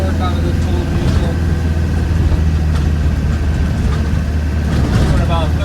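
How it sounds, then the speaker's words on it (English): A 1990 Land Rover Defender 110 County with the 200Tdi diesel pulls uphill in third gear, its steady low engine drone and road rumble loud and constant from inside the cabin. "we're accelerating uphill right now. So we're in third gear, going uphill"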